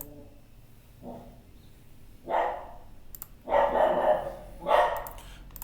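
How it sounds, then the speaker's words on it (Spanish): A small dog barks several times nearby, a few short yaps then louder barks, separated by quiet pauses. "Se pone a ladrar mi perrito igual."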